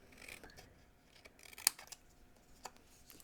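Scissors snip through card stock to shape a pointed banner end for a handmade greeting card, a few quiet close cuts with one sharper snap in the middle, no voices.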